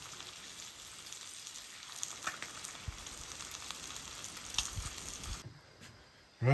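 A ribeye steak sizzles in hot bacon grease in a skillet in an outdoor kitchen on a windy morning, giving a steady, close hiss and crackle with scattered pops that cuts off near the end.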